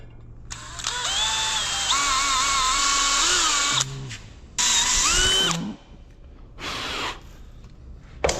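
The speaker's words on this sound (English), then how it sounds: "Now that you got your holes drilled" A power drill bores bolt holes for a winch mount on a car-loading setup, in several close, loud whirring bursts with rising and falling motor pitch separated by short pauses.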